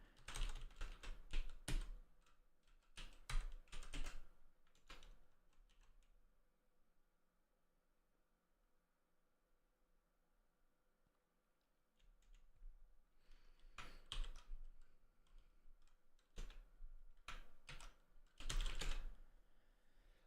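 Fingers tap on a computer keyboard during a terminal programming session, with several quick bursts of clicking keys separated by a long quiet stretch, close and moderately loud.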